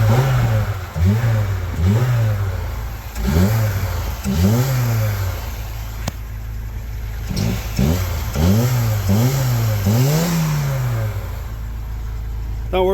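A warmed-up Fiat Seicento petrol engine being revved repeatedly in short bursts, each rev rising and falling over a steady idle, loud and close, about a dozen blips in a row.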